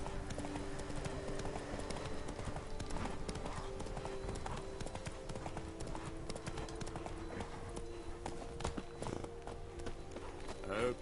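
A horse gallops in The Witcher 3: Blood and Wine, its hooves pounding out a fast, continuous clip-clop rhythm close up, with game ambience underneath.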